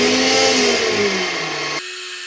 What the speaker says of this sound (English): Next I'll do is start doing some sanding